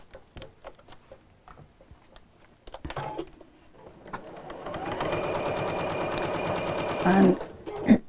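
A sewing machine stitches the folded fabric ends of a drawstring pouch, opening with scattered handling taps and then settling into a steady, close mechanical whir that lasts several seconds.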